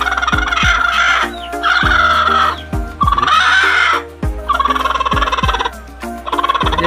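A turkey hen gobbles repeatedly, close and loud, her rapid warbling calls coming in several bursts with brief breaks and no talking.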